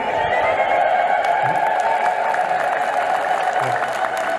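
A church congregation ululates in a sustained, high, warbling chorus of many voices. The sound holds steady and loud for several seconds, with light crowd noise mixed in.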